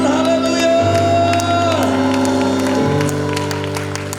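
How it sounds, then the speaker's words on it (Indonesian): A congregation at an onsite senior community worship service at GBI church cheers and applauds loudly, a steady roar of clapping and shouts over sustained musical tones throughout. "Sorakan haleluya."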